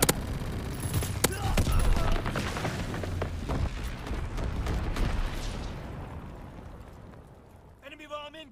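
Heavy bomb explosions from an aerial bombing run in a World War II strategy game, with deep rumbling blasts and crackling bursts at the start that trail off into fading debris. A radio-style game voice announces near the end.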